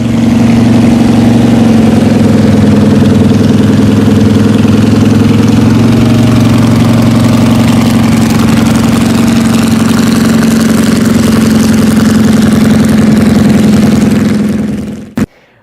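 Corvette CERV III concept car engine idling, a loud, close, even rumble with a steady low drone that holds for about fifteen seconds before cutting off abruptly, followed by a single click.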